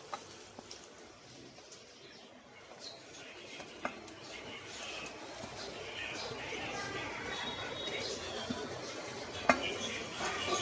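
Onion and tomato are stirred in a cooking pan, with faint scraping, soft sizzling and occasional sharp clinks of utensil on metal, under quiet background sounds.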